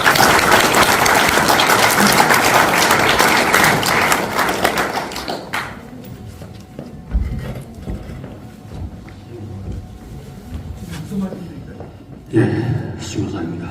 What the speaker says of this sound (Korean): 큰 박수로 모시면 좋겠습니다